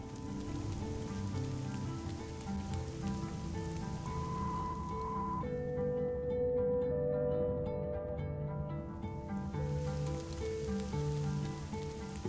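Rain falls steadily in the video game Fall of Porcupine, a soft patter on surfaces under gentle melodic game music, continuing without pause.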